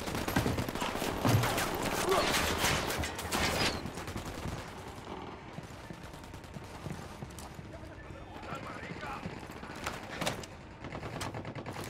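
Sniper and rifle gunfire in Tom Clancy's Ghost Recon Wildlands, a rapid run of sharp shots and bursts up close in the opening seconds, then sparser cracks and a later shot amid game ambience and voices.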